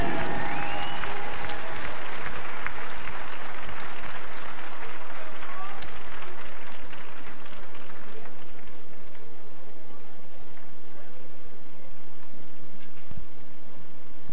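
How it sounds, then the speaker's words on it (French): A crowd in an arena at a short track speed skating trials event claps and cheers as a skater's career ends, loud at first and thinning out, with an announcer talking over it. "Une bonne main d'applaudissements, mesdames, messieurs."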